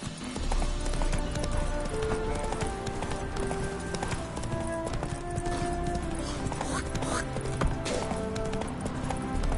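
Witcher 3 horse running on the PS5 version, with rapid, steady clip-clop hoofbeats throughout, close and prominent over in-game music and ambient noise.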